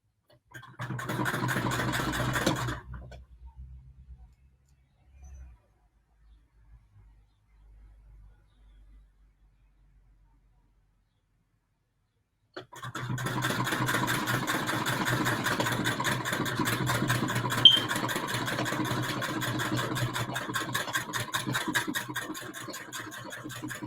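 A sewing machine runs in a fast, steady whir for a couple of seconds, stops for a long quiet stretch with a few faint stray sounds, then starts again and hums on continuously.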